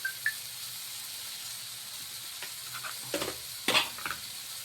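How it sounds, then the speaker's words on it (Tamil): Onion, tomato, turmeric, chilli powder and ginger garlic paste sautéing in a pan for kadamba gravy, a soft steady sizzle with several short scraping stirs and clinks. "எல்லாத்தையும் நல்லா கொஞ்சம் வதக்கணும்"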